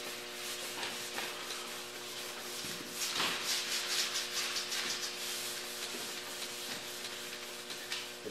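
A sanding pad scuffs a plastic bumper cover being prepped for paint, with steady close rubbing strokes in a quick back-and-forth rhythm, growing louder and harsher midway.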